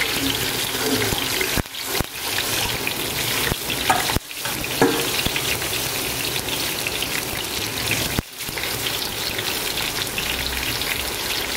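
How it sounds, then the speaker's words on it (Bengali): Pointed gourd (potol) frying in oil in a pan gives a steady, close crackling sizzle that runs throughout, broken by a few brief gaps, with faint water-like noise in the background and no talk. "পটল ভাজাটা চাপিয়ে দিচ্ছি।"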